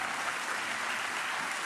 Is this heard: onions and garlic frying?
no